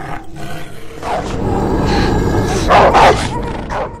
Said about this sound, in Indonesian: berlari menyelinap ke rumah wali kota sambil menggeram dan menggonggong